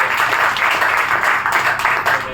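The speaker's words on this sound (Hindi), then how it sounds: "अभी थोड़ा सपोर्ट किए ताली बजा के" An audience at a leaders' meeting clapping in support, a short, fairly loud burst of dense applause that is steady across the whole moment.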